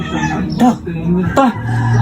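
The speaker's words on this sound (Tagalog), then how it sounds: "Manok ko Dan." Rooster crowing in short bursts nearby, with harmonic calls rising over a steady background and voices talking around it.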